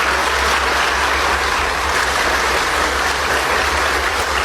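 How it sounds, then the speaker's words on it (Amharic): Sustained, dense applause fills a parliament chamber, steady and loud throughout with no pauses, accompanied by a low constant hum underneath. "ዛሬ ፓርላማው እጅግ በጣም ደስ በሚል ጭብጨባ ተሞልቶ ነበር።"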